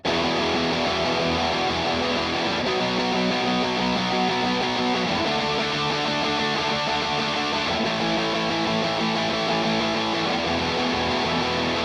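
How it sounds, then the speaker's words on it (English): Heavily distorted rhythm electric guitar from the STL Tonehub Zakk Cervini pack plays alone, dense chugging chords with a thick mid-gain crunch held at a steady, even level throughout. "the main rhythm guitar tone is from the Zakk Cervini pack"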